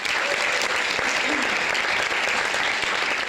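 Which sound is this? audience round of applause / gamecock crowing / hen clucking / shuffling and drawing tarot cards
audience round of applause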